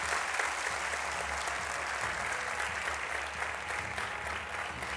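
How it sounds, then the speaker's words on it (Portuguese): On Portugal's Got Talent, a studio audience greets a special guest with a magician's act under way, the applause steady and even, heard at a slight distance throughout. "Um aplauso para ela."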